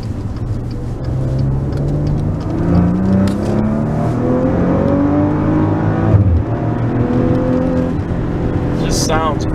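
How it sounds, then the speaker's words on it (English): A 2017 Maserati Ghibli SQ4 AWD in sport mode climbs a ramp, its exhaust droning close and steady with rising revs throughout, a brief sharper burst partway through and a faint chirp near the end. "we've got it in sport to give you a little bit more of that exhaust tone"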